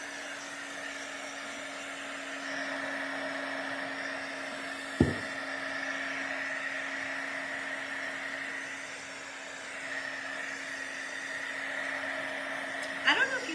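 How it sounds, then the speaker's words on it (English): A hair dryer runs steadily at close range, a constant whooshing drone with a low hum, broken by a couple of brief knocks. "I'm gonna turn the dryer on, so you're gonna hear the dryer again"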